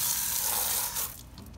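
Water running from a tap or hose rinses a part of a Hayward Pro Grid DE pool filter, a steady broadband gush that cuts off near the end.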